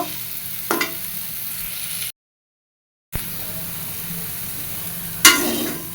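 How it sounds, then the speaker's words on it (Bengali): Potato and pointed gourd pieces sizzle steadily in hot oil, with a couple of scraping stirs; the sound drops out briefly partway through. "পটল আলু খুব সুন্দর ভাজা হয়ে গেছে, এবার এগুলো নামায়ে নিব।"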